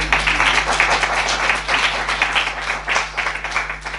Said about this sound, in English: Give a round of applause there for our speakers.